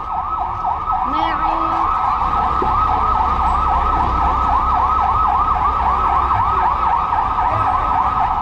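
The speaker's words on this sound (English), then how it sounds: "I hear sirens." A wailing emergency siren cycles steadily and loudly over the low rumble of traffic, continuous throughout.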